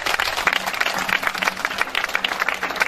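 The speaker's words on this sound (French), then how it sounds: "Applaudissez pour cela." An audience applauds at a graduation ceremony for a pastry training course for vulnerable girls in Congo, a dense and steady patter of many hands clapping from a mid-sized crowd.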